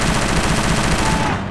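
Rapid continuous automatic fire from a PDW7 submachine gun in the video game Soldier of Fortune: Payback, loud and close, a dense unbroken burst that cuts off near the end.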